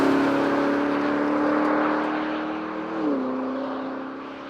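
Porsche Cayenne Turbo GT SUV from 2021, its engine droning loud and steady under acceleration, with a brief dip and shift in pitch near the end as it keeps pulling.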